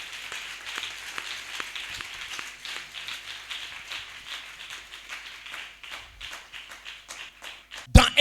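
A church congregation claps steadily during a sermon, a sustained patter of many hands at moderate distance, fairly soft and even, ending with a sharp louder burst.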